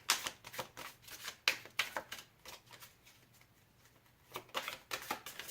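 Tarot cards are shuffled in quick, crisp riffling bursts, quiet and close, with a short lull in the middle before the shuffling picks up again.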